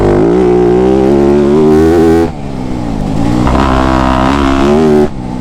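A Yamaha YZ250F dirt bike engine roaring very loud and close, a sustained high-revving drone that dips briefly mid-way then climbs back up, alone with no voices.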